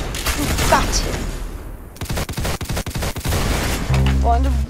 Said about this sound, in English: Oh, bro, I just randomly shot